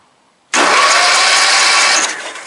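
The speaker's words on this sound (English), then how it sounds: "Let's just kick it over real quick and see if it spins." A 1995 Murray mower's 17hp Briggs & Stratton high-performance engine is cranked over once after a short silence, a loud, close, sustained whirring churn that continues for about a second and a half, then eases off slightly.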